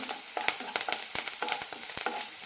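Onions fry in a pan for an egg roast masala, a steady crackling sizzle broken by quick scraping stirs in a fast, uneven rhythm, close and alone without any talk.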